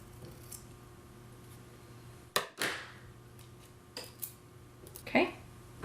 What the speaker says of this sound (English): I cut it about as big as a lock would be